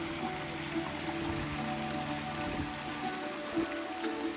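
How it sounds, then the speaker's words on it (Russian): A meltwater waterfall in Dante's Gorge near Goryachy Klyuch, heard from above as a steady, hissing rush of falling water that stays even and moderately loud throughout, with no voices. "И вот он сверху как раз водопад."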